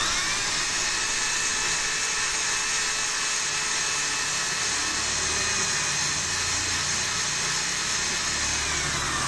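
Electric drill spinning steadily while lapping an engine valve, a loud continuous whine with an even motor hum throughout, close and alone with no talk.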